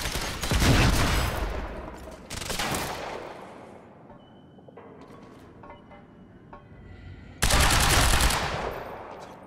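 Gunfire in the video game Quantum Break: loud bursts of rapid automatic shots open the scene, a quieter lull with scattered mechanical clicks follows, then another heavy volley erupts near the end.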